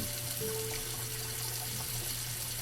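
A shower runs in The Last Time, a steady, soft hiss of falling water with a faint low hum underneath.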